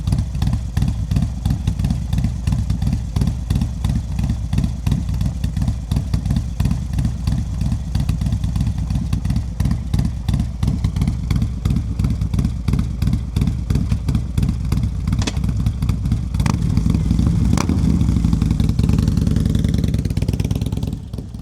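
A motorcycle on a solo motocamping trip runs steadily at close range, its engine thumping and clattering throughout and swelling slightly near the end as it pulls away.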